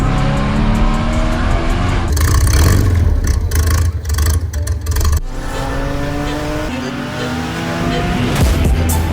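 A built DE engine in a 1000HP Infiniti G35 roars loud and close, revving hard with rising and falling pitch, a rough, busy burst in the middle and steady engine drone toward the end.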